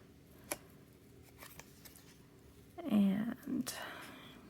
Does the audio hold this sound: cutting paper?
yes